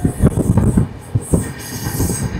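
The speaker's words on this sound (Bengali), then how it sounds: "আমাদের টানেলের ট্রেন ঢুকে গেছে" A passenger train runs through hills near Jamalpur and into a tunnel: a loud, close rumble with rhythmic clattering wheel beats and a faint high hiss, and no voices.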